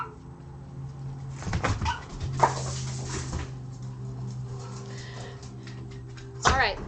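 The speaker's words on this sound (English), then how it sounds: "All right, I gotta let Puppy in" A dog whimpers and scratches near a door, wanting to be let inside, with a few short sharp whines and knocks over a steady low indoor hum; the sounds are close, with quiet room noise between them.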